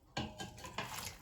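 Chopped onions tumble into a soup pot of melted stock, two quick clattering thuds of pieces and utensil against the pot, close and brief in a quiet kitchen.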